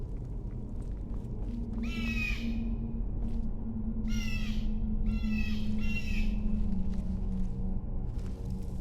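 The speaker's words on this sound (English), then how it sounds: "There must be a bird in here" A bird caws repeatedly inside a Skyrim interior, four or five raspy calls in loose succession over a constant low ambient hum, with no one talking.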